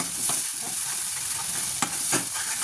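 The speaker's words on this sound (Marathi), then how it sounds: "मसाला आपल्याला परतून घ्यायचा आहे व्यवस्थित।" Ground masala with red chili sautéed in a pan, a continuous hiss of frying with a few soft scrapes of stirring, close and fairly quiet.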